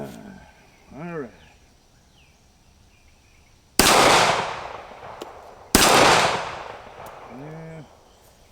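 Colt MK IV Series 80 1911 pistol firing reloaded ammunition outdoors: two sharp, loud gunshots a couple of seconds apart, each with a decaying echo tail, amid quiet background with brief bird chirps.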